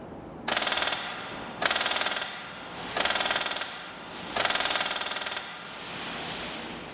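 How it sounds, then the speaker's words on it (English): A custom FN 30-K PolarStar airsoft gun fires four rapid full-auto bursts, each a dense mechanical rattle of about a second, separated by short pauses with a low background hum. "I'm going to raise it up a little bit for the camera and you can hear it firing"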